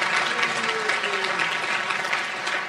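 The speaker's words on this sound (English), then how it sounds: "give them a round of applause as well" A forum audience at a Calgary mayoral election event claps steadily, a dense, even patter of many hands that holds throughout, with some faint murmuring underneath.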